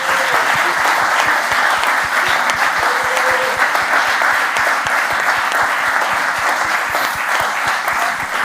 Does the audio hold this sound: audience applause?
yes